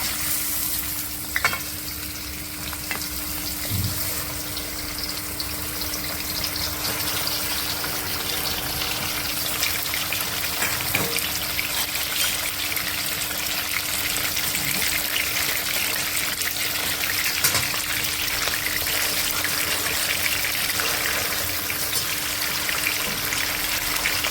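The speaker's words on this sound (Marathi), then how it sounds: "आता त्याच्यामध्ये आपण मटन फ्राय करून घेऊया" Mutton fries in a glassful of hot oil for a spicy curry, giving a loud, continuous sizzle and crackle with occasional faint stirring clinks throughout.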